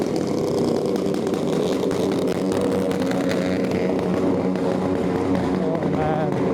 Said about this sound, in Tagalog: ayan na yung mga motor